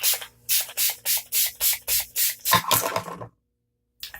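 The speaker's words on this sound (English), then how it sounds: "Let me spray my face" Makeup setting spray misted onto a face, nine short rhythmic pump bursts in quick succession, close and crisp, followed by a brief rustle and silence.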